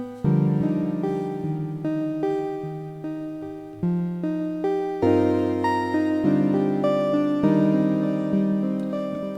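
Procedurally generated random chord music from a video game: a sequence of sustained synthetic chords, each struck and slowly decaying, changing every second or so in a steady, unhurried progression.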